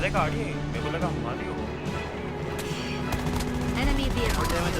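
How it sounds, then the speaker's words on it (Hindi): Rapid bursts of gunfire in the battle royale mode of Call of Duty Mobile crackle over a dense, busy soundscape of engine hum and effects, with a voice talking intermittently. "अब इस बंदे को हमने इतनी गोलियां मार दी थी"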